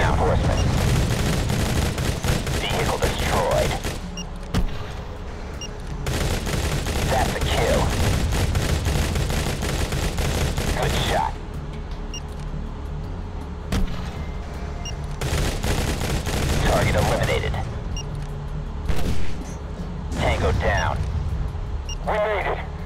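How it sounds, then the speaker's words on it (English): Sustained gunfire from the Modern Combat 3: Fallen Nation video game, long dense bursts of rapid shots separated by short lulls, loud and close, with in-game voices speaking over parts of the battle. "We're still taking fire down here!"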